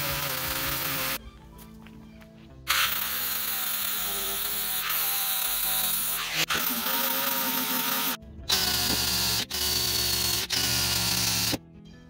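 A 4.5-inch angle grinder fitted with an 80-grit Harbor Freight flap disc strips coating from a jon boat. Its whining bursts start and stop repeatedly, separated by short pauses.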